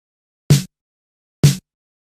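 Two punchy LinnDrum drum machine snare hits, evenly spaced and isolated, each a short crisp crack with a bright noisy top and quick decay.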